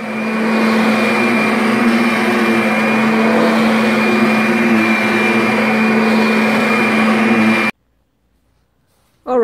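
A carpet cleaning machine runs steadily and loud with a constant whining drone for several seconds, then cuts off abruptly into near silence before a brief sound returns at the end.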